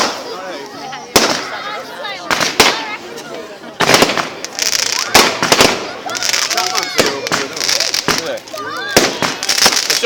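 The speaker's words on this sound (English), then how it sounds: "As soon as fireworks are done" Bonfire night fireworks crack and bang in rapid, irregular bursts, some loud and sharp, others popping and crackling, with people talking and shouting in between.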